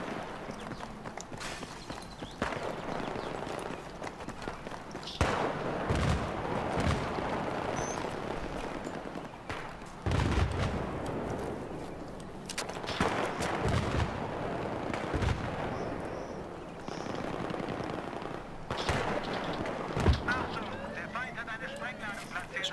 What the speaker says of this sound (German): die schießen dann durch Nebel und dann verreckst du halt auch